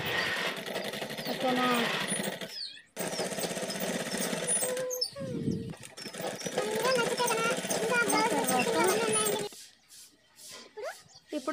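A sewing machine stitches the shoulder seams of a Punjabi dress in loud close bursts of rapid needle chatter, stopping and restarting several times, with someone talking briefly.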